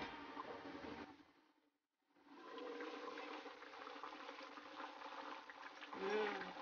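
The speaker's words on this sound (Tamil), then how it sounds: "நல்லா கொதிச்சுட்டு இருக்குங்க. இப்போ ஓப்பன் பண்ணி பார்க்கலாம்." Dried anchovy tamarind curry boiling in a pot, a steady bubbling hiss that drops out briefly, then resumes and carries on continuously at close range.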